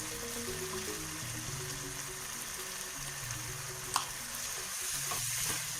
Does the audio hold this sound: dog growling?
no